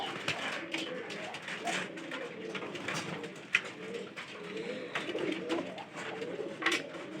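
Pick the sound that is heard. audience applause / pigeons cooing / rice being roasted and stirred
pigeons cooing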